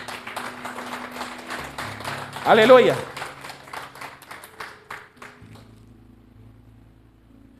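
A church congregation claps rhythmically under a preacher's speech, with a louder swell of applause and voices, then the clapping thins out and stops as talking continues.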